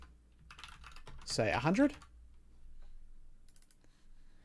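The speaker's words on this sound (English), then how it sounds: "Sorry about my incredibly clicky mechanical keyboard." An incredibly clicky mechanical keyboard being typed on during a programming session, soft rapid key clicks scattered under and between a man's speech, fairly faint.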